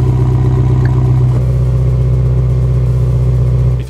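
A Ferrari engine with its exhaust valves in stock OEM control, running with a loud, steady, close-up low rumble and mild revving throughout, with no voices.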